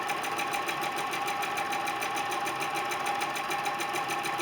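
A sewing machine chain piecing quilt fabric runs in a steady, fast, even stitching rhythm, loud and close, with no pauses.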